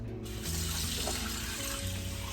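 Tap water pours steadily into a cooking pot for mac and cheese, a continuous close rushing splash running the whole time with no one talking.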